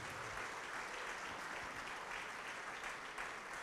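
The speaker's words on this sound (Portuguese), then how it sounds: "vamos aplaudir mais ao nome de Jesus" Soft, distant applause from a church congregation during an evangelistic altar call, an even, continuous patter of many hands at low level with no distinct voices.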